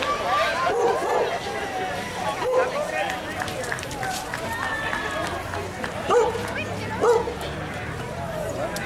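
Dogs barking outdoors on a St. Patrick's charity walk, several short yips and barks at mid distance mixed into crowd chatter and background babble.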